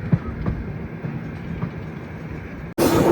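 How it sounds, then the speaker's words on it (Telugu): Goa to Secunderabad train 17040 running near Goa, heading into hill country toward Dudhsagar; a steady rumbling rail noise with faint clacks, then a sudden louder roaring burst near the end. "ఇక్కడ నుంచి ట్రైన్ అంతా కొండ ప్రాంతంలో పోతుంది."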